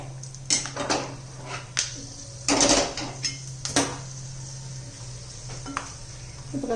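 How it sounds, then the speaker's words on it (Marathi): Cashews and almonds frying in ghee for jaggery carrot halwa, a steady low sizzle with scattered stirring scrapes and spoon clinks against the pan, close by and fairly quiet, no talking. "आता हे काजू बदाम घालून घेऊया त्याच्यात तळून घेऊ"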